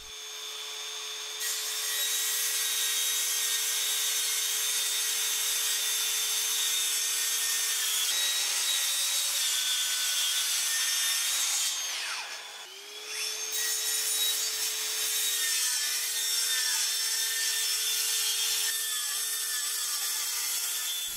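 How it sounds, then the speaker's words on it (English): Bosch 18 volt cordless plunge saw ripping a sheet of MDF, a loud continuous high whine and rasp of the blade through the board, running steadily nearly the whole time with one brief dip mid-cut, no talking. "I'm going to use my Bosch 18 volt plunge saw"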